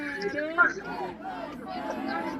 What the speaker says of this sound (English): What a fucking crowd.